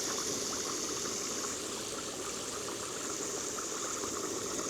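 Snow crab legs fry in hot oil, moisture sizzling out in a dense, continuous crackling hiss at close range without pauses.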